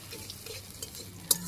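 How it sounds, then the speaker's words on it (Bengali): Chopped onion and crushed ginger frying quietly in a pan, with soft sizzling under a few light stirring scrapes and one sharp utensil click near the end. It is fairly faint and has no voices. "পেঁয়াজ কুচি, পেঁয়াজটা ভেজে নিই ভালো করে।"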